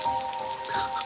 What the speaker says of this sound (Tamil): ஃபர்ஸ்ட் டைம்டா ஜான் இப்படி மழையில் நனையிறது.